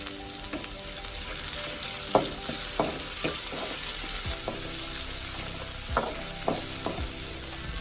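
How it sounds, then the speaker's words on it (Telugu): A spoonful of fresh ginger garlic paste fries in a pan with a steady, bright sizzle, broken by scattered scrapes and taps of a stirring spoon. "ఇప్పుడైతే మనకి పచ్చివాసన అంతా పోయి బాగా ఫ్రై అవుతుందన్నమాట"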